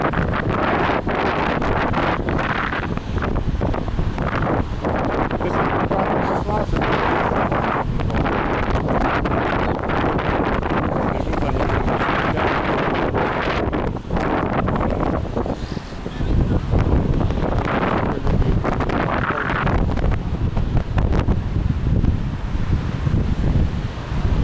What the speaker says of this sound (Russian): Сейчас холодный ветер